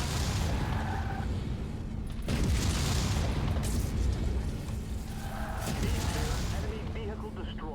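Enemy vehicle blowing up in MechWarrior 5, heavy booming blasts and rumbling mechanical clatter filling the scene, with a second burst later, all under continuous game noise.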